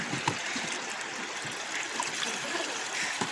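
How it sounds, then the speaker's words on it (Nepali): Steady rush of a slightly swollen, muddy river stream flowing over rocks, close and continuous with a broad hiss and occasional small splashes, no voices. "धमिलो आएर रहेछ खोला चाहिँ हैन, बढेछ हल्का"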